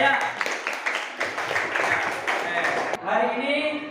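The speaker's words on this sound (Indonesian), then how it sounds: "Beri tepuk tangan untuk Baraya" Classroom clapping for a student: a group of pupils applauds in quick, uneven claps, close and moderately loud, with children's voices mixed in and a teacher speaking near the end.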